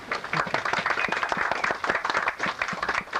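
An audience applauds at a 1992 museum fundraiser, a dense, steady patter of many hands clapping at moderate distance for a few seconds.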